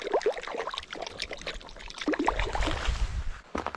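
Stream water being filtered at a mountain campsite, a trickling, pouring flow that runs steadily throughout with small splashes and clatter, fairly close and alone without talk.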